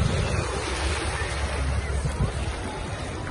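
Sea waves wash at Ponta de Pedras, a steady roar of surf blended with strong wind buffeting the microphone, continuous and close throughout.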